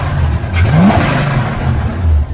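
A 1977 Chevrolet Malibu V8 with a knock-off Quadrajet four-barrel carburetor on an aluminum intake manifold revs up from idle once, a short rising blip over a steady low rumble, then settles back to idle.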